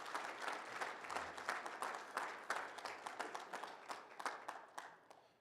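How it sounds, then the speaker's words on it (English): A crowd applauds at a safety kickoff event, sharp individual claps forming a moderately quiet, steady round that tapers off near the end. "Again, a big round of applause."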